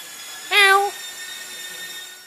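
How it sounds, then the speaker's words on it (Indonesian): A passing cat gives a single short, bright meow near a 2003 BMW E46 325i M Sport, close to the microphone over a steady electrical hum, then falls silent. "Ada kucing lewat ya."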